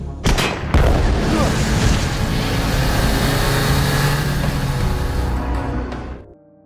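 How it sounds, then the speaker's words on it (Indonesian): A mafia boss's base blows up in a film scene: a sharp blast hits, a second heavy boom follows, and a loud rumbling roar of debris and fire rolls on for several seconds before cutting off abruptly. "John meledakkan markas bos mafia untuk memastikan tidak ada lagi ancaman"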